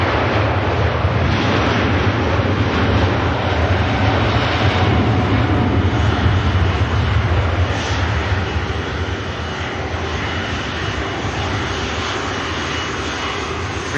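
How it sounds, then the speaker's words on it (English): A Virgin Atlantic Dreamliner on its takeoff roll at Manchester Airport gives a loud, steady jet roar that fills the whole stretch, with a broad rumble that swells slightly and then eases as it passes close by. "Dreamliner on the takeoff roll. Virgin Atlantic about to come past us."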